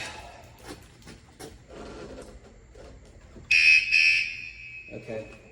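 A Wsdcam 113dB wireless vibration motion-sensor bike alarm gives a loud, piercing electronic warning tone lasting about a second and a half, preceded by handling knocks and rustling, with faint voices around it.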